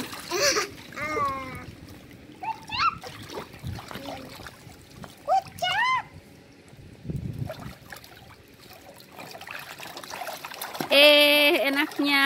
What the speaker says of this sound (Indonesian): Enaknya berenang ya.